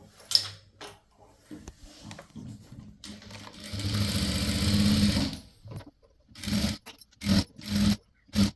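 A sewing machine stitches a blouse sleeve in a close, quiet room: one sustained run of fast, even mechanical chatter, then several short stop-start bursts, between soft handling noises.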